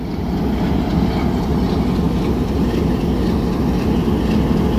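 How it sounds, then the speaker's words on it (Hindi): A train hauled by a Hitachi locomotive sits at platform 1 of Sargodha Junction, giving off a loud, continuous low rumble and engine drone that holds steady throughout with no voices over it. "सरगोधा जंक्शन पर, प्लेटफार्म नंबर 1 पर 17 अप विद हिटाची"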